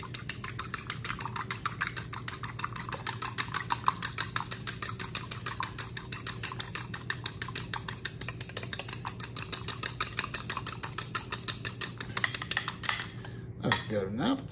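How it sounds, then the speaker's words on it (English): Egg white being beaten in a bowl for cinnamon swirl bread makes a fast, even clatter of utensil on dish, loud and close, that runs steadily and stops abruptly near the end. "now we want to break up that egg white, so we're going to beat that up a little bit"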